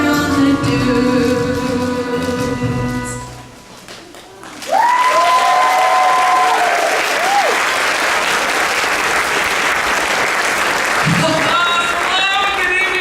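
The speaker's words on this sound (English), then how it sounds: "let's give one more round of applause to all my wonderful genie babies" Theatre audience applause breaks out as a musical number ends at a stage show, loud dense clapping and cheering that sweeps in after the singing and holds steady, with bits of sung melody and voices over it.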